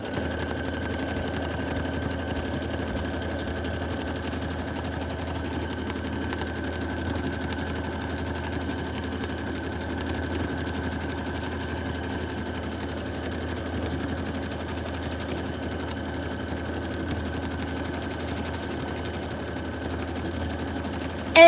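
A multi-needle embroidery machine stitching Kingstar metallic thread at full speed, giving a steady, even mechanical hum and rapid stitching chatter that runs unbroken throughout, moderately loud and close.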